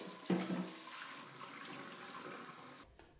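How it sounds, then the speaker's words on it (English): Running tap water pours over a Cosori air fryer basket as it is rinsed, a steady close splashing rush that starts with a brief louder gush and then cuts off near the end, with no one speaking. "Then, rinse off any remaining soap."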